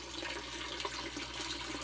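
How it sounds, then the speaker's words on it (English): Water in an aquaponics setup drains through a drilled overflow pipe into the grow bed and down into the tank, a steady trickling and splashing flow heard close and continuous, with no talking. "It allows the water to drop through"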